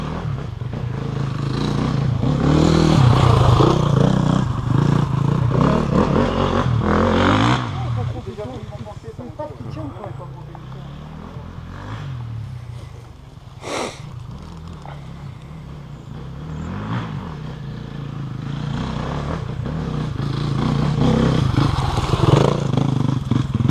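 Enduro motorcycles take slow flat turns, engines rising and falling in loud revving passes with clattering, while people talk over and between them.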